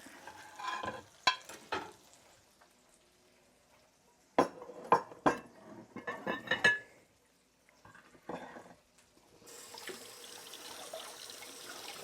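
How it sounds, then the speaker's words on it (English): Onion rings frying in a home kitchen, a few knocks and clatters first, then a steady soft sizzling hiss that comes up in the last few seconds. "And then we're going to cook the onion rings."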